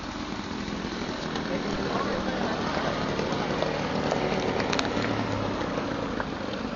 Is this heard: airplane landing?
yes